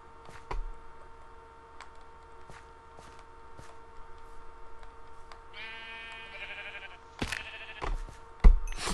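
Sheep bleating in Minecraft on PS3, two short synthetic bleats in the latter half over a quiet game backdrop with scattered ticks and footstep-like clicks.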